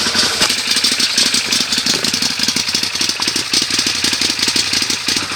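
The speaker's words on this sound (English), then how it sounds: "So we're gonna fire it up here and take it for a spin" A 2015 Wildcat X 1000 Limited side-by-side engine runs loud and close, a steady rough idle with a rapid throbbing pulse that holds throughout, no voices.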